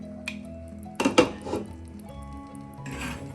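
Metal pot and utensils clinking and scraping as tomatoes are stirred into a chicken masala curry, a few close knocks around the one-second mark then lighter scraping, with no talk.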